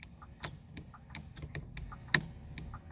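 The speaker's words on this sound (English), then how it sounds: "obviously you'll hear it clicking away when I'm doing the code" Sharp mechanical clicks of a Bentley Bentayga's indicator relay tick in a steady rhythm during immobiliser PIN entry, faint and close, with one louder click partway through and no voices.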